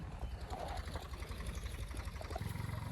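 A sewing machine stitching shut sacks filled with potatoes, a fast, steady mechanical chatter running throughout at close range with small shifts in tone near the end.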